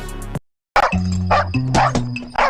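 A dog barks in a few loud, sharp bursts after a brief silence, with a steady low hum underneath.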